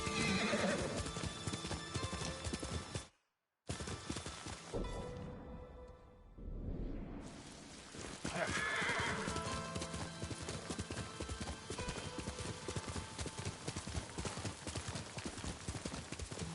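Steady clip-clopping hooves of a video game horse trot on, broken by a short silent gap, while the horse neighs and whinnies loudly over the continuous rhythm.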